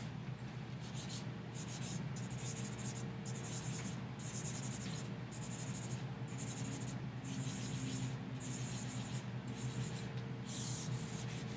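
Rhythmic scratchy strokes of erasing and writing on a board repeat in short bursts over a steady room hum, fairly close and moderately quiet.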